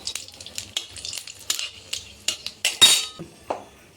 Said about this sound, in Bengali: তেল গরম হয়ে গেল, ফোড়নটা দিয়ে দিলাম